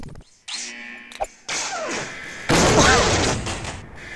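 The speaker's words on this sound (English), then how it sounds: "Grenade plus crazy explosion, apparently." In-game grenade blast in a video game, heard as a heavy boom with a burst of crackling noise, following other clanks, thuds and synthetic effects that come in loud, abrupt chunks.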